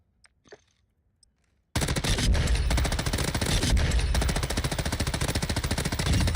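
An M13 rifle in Call of Duty Warzone fires a long sustained automatic burst, loud and rapid, starting abruptly after a quiet opening with faint clicks.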